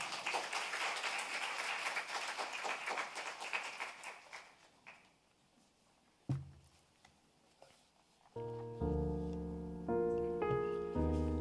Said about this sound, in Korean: 여러분 크게 한번 좀 격려의 박수 쳐주시면 감사하겠습니다